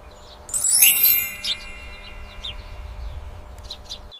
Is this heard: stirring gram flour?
no